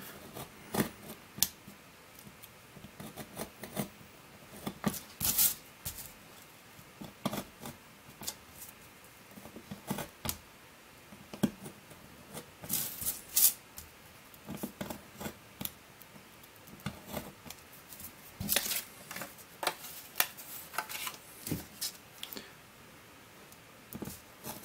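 Scissors snip through fabric while a stencil is cut out, a steady series of close, crisp cuts and rustles with short pauses between strokes, no voices.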